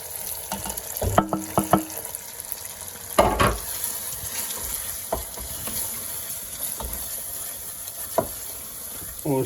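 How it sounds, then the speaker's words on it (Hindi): Spices fry in a cooked onion, tomato and garlic paste for achari chicken, making a soft, steady sizzle broken by clattering stirs and scrapes in the pan. "अब हमारा प्याज, टमाटर और लहसुन का पेस्ट जो पक चुका है, उसका कच्चापन ख़त्म हो गया। अब हम इसमें डालेंगे मसाले।"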